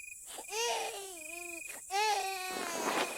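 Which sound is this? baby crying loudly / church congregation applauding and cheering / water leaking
baby crying loudly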